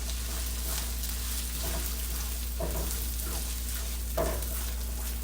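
Garlic sizzling in a hot pan while beef bourguignon is cooked, a steady, fairly quiet hiss of frying with a few soft scrapes and clinks of stirring, and no one talking.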